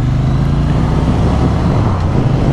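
A Triumph Bonneville T100 motorcycle from 2023 pulls away in first gear, its engine a steady, loud low rumble close by with no talking over it.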